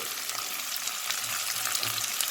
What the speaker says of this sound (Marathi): बारीक कट केल्यानंतर आपला कांदा छान फ्राय झाला आहे